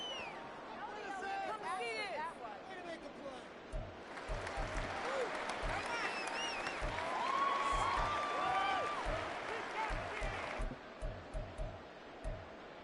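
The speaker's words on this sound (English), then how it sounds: "This crowd turning up the decibel level" Stadium crowd roaring and applauding in a Giants vs Jets football video game, a dense sustained wall of cheering that swells in the middle, with a commentator talking over it throughout.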